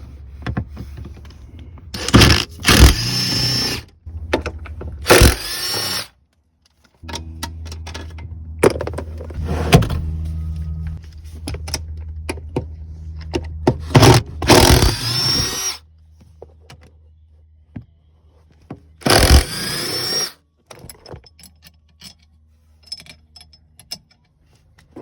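A power tool runs in short bursts of a few seconds each to remove Jeep Wrangler seat bolts with a T45 Torx bit, separated by silences and clinks of metal.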